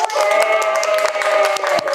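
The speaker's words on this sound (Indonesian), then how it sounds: "teman-teman, tepuk tangan." Audience clapping at a film club talk session, dense and continuous throughout with a steady sustained tone running underneath, moderately loud and close.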